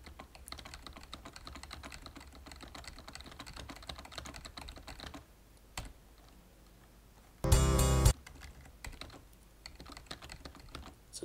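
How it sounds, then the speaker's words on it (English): Rapid typing on a computer keyboard while entering notes for a drum chart, a steady run of close, busy key clicks through the first half, then scattered taps with a brief loud burst near the end. "I can use the keyboard to put the notes, so I don't need to break my wrist clicking all over the place"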